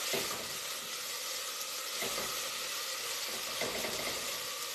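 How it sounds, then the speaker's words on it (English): Vegetables sauteing in a pan while cleaning out the pantry for pasta with lentils, a continuous hissing sizzle at moderate level with faint periodic stirring swells, no talk. "Let this saute away."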